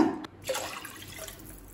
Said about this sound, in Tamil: இப்போ அடுத்தது மூணு கப் தண்ணி சேர்த்துக்கலாங்க